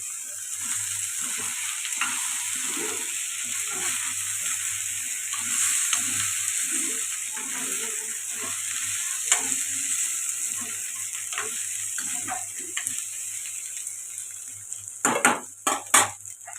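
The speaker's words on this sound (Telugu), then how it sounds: "ఇప్పుడు బాగా కలుపుకోండి" Taro root curry frying and sizzling in a pan while a utensil stirs it, steady sizzle with repeated scraping clinks against the pan, close and continuous, ending in a few louder knocks.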